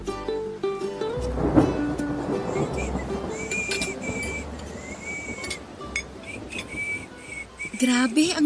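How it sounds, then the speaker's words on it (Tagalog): Heavy rain with thunder, made as a sound effect for a Filipino audio drama. Steady rain hiss runs under a deep thunder rumble near the start, and faint whistling tones drift over it. "Grabe, ang lakas ng ulan."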